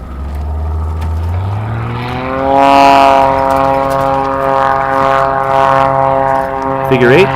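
A propeller aerobatic airplane pulls vertical into a hammerhead turn at a competition, its engine note sliding upward then holding a steady harmonic drone before shifting again near the end, with a commentator talking throughout.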